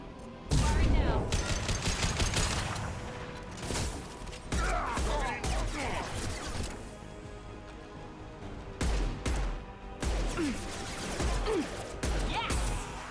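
Gunfire from the game Mass Effect 2: bursts of rapid shots and sharp impacts come in several loud volleys with short gaps between them, and distant voices mix in.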